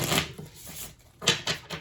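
A few quick bursts of tarot cards being shuffled, riffled in short crisp flurries with brief pauses between them, close by and moderately loud.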